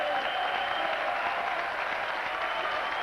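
A crowd at the US Kung Fu Championships in 1997 applauds steadily after a women's bout, a dense, even wash of clapping that fills the whole stretch without letting up.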